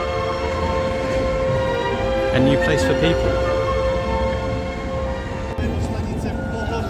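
A tram in Prague hums and rumbles steadily nearby, with a tonal electric whine and some clanks; a person speaks briefly over it.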